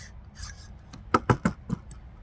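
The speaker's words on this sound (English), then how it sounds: "rotate the upper receiver" An unloaded AR-15 upper receiver swung open on its pivot pin, heard as a short run of four or five close, distinct mechanical clicks and clacks of metal parts with no talking.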